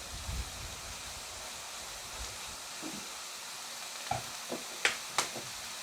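Hoisin sauce going into a pan of chicken stir fry, with a soft, steady sizzle under broad noise and a few brief clinks and taps of a utensil toward the end.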